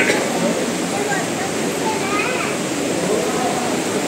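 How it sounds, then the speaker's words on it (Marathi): A babbling river in Lonavla flows as a steady, broadband rushing and gurgling wash that stays constant from start to finish, with faint voices in the background. "ही बघा बाजूनेच ही छान अशी खळखळणारी नदी वाहते"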